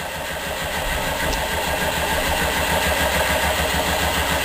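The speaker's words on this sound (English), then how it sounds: "I'll keep the battery connected for a few seconds just to let the engine get up to operating temperature." A rhombic drive Stirling engine runs steadily under an electrical load of four 12-volt automotive lamps, giving a continuous even mechanical hum and rumble at constant level, close by, with no talking.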